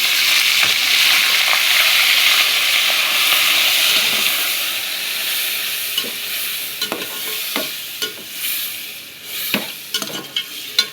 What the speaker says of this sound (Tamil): இப்போ இந்த வெங்காயம் போட்ட எண்ணெயிலே கொட்டிடுவோம்